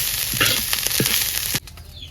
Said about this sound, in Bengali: এবার এই দিয়ে একসাথে টালা টালা করে নেব সুন্দর করে।